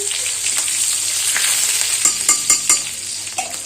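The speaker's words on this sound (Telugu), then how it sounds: "అది వేగుతూ ఉన్నప్పుడు మంచి చిరపట్లాడుతూ ఉండాలి" Loud sizzling of curry leaves frying in hot oil, with sharp crackles and pops bursting over the steady hiss, no voices.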